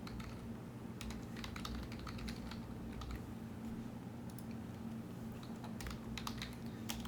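Someone types a password on a computer keyboard, a quiet run of quick, irregular key clicks in small bursts over a faint steady background hum.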